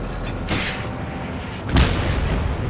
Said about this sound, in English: These booms are satisfying,